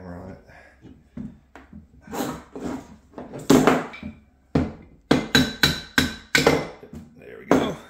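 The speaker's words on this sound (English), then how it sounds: "I might need to put a hammer on it." Hammer blows strike a metal actuator part to loosen it during a teardown, a series of sharp, loud knocks in irregular bursts that grow quicker near the end, with someone talking between them.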